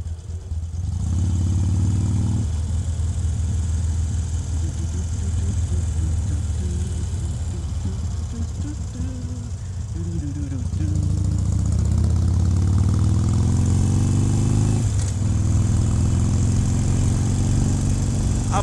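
A Harley-Davidson Iron 883 motorcycle idles at a traffic light with a loud, close, low rumbling throb that continues steadily and swells slightly partway through.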